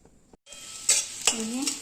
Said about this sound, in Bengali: ডালের জন্য পেঁয়াজ লঙ্কা জিরে দিয়ে ফোড়ন দিয়ে দিচ্ছি